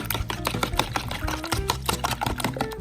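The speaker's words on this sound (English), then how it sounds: "And then we're gonna whisk our eggs together." Eggs whisked in a mixing bowl, a rapid, close series of clicking taps and scrapes of the whisk against the bowl at an even, busy rhythm with no talking.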